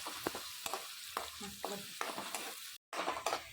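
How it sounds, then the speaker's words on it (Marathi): Ginger-garlic paste and tomato puree fry in oil for Solapur-style kheema unde, stirred in steady scraping strokes over a continuous close sizzle, with a brief silent gap near the end. "अद्रक लसणाची पेस्ट आणि टोमॅटो प्युरी तेलामध्ये छान फ्राय झाल्यानंतर भाजल्यानंतर"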